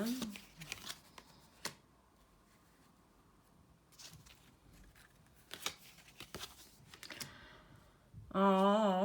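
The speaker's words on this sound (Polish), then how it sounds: "Dobrze, zobaczmy, co teraz nam powie karta, karty na uczucia." Tarot cards are shuffled close by in quick riffling bursts and soft flicks, with someone talking in Polish over and between them.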